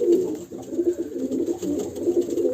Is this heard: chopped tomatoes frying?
no